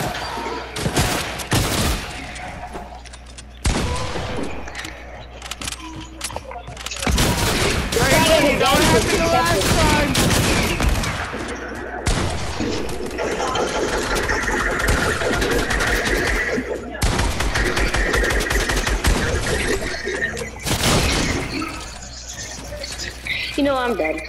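Rapid bursts of gunfire from a Fortnite match ring out in dense, loud volleys with short gaps, overlapping throughout, while a player talks over the shooting.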